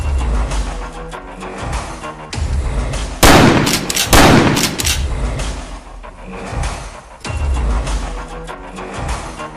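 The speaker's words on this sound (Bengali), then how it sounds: "আগে দুটো ফাঁকা গুলি ছোড়ো তো" Two blank rounds fired from a gun at the edge of a jungle ring out as loud, close bangs roughly a second apart, rising sharply over a steady, noisy outdoor background and fading into a lingering rumble.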